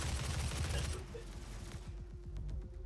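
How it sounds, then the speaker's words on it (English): Rapid gunfire in the classic shooter Doom: a dense burst of overlapping shots, then a steady run of sharp repeated blasts, loud and continuous throughout. "Fast shooting, dude."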